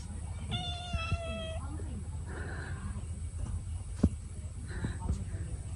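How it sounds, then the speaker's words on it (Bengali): A cat meows close by in a village setting, one clear harmonic meow followed by a few softer, shorter mews, with people talking quietly in the background. "ম্যাও"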